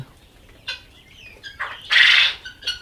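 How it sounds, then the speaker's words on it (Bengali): High-pitched cheeping and chirping from young chicks, several short calls and one louder burst, close by with no talking. "এই দেখেন তিথি মুরগির বাচ্চা আছে"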